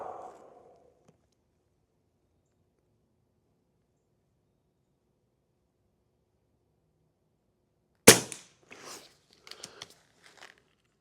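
A sharp report from an Avenge X airgun firing at a target group, one loud crack after a long quiet stretch, followed by a few faint clicks and small knocks of handling.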